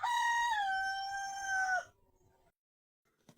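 A single rooster crows loud and close in one long, drawn-out call that breaks off abruptly, followed by near silence.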